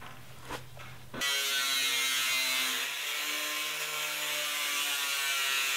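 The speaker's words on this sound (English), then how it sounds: "And then of course just taking the grinder" An angle grinder cuts along metal roofing panels in a workshop, starting with a brief tap and then a loud, continuous harsh screech with a steady droning hum that holds for several seconds.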